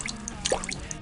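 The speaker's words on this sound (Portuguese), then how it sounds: "Uma torneira gotejando pode chegar a 20 decibéis." A single water drop falls from a dripping faucet with a soft plip, isolated against a faint background.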